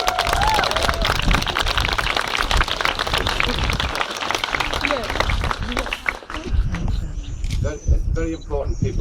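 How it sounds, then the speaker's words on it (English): Crowd applause for Sir Bobby Charlton at an outdoor plaque unveiling at Duncan Edwards' former home in Stretford, a sustained burst of clapping and cheering that thins out toward the end as voices take over. "Round of applause, please."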